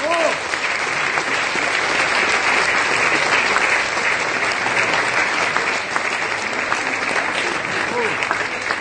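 Loud, dense audience applause following a speech at a gathering marking a French deputy's year in office, continuous and even from start to finish with no talk over it.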